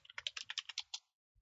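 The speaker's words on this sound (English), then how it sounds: "I'm going to type the following command: npm install" Quick run of keystrokes on a Mac computer keyboard as a terminal command is typed, about a dozen close, crisp clicks in a fast burst lasting one second, then silence.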